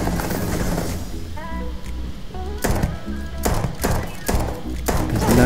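Old Earth Pistol shots in Starfield, several sharp cracks spaced about a second apart over steady loud game background and music.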